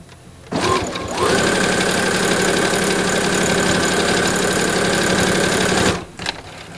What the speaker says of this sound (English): And just simply sew up either side of this little hanger.